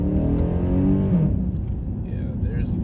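A Chrysler 300C SRT8 with a 6.1L V8 and a Corsa enclosed cold air intake rumbles low and throaty from inside the cabin, its engine note easing off as a person speaks over it.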